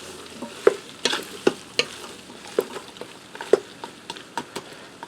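Frozen tater tots and sausage being stirred in a Ninja Foodi pot, a run of sharp scraping clatters and knocks in an irregular rhythm over a faint sizzle, close by with no talking.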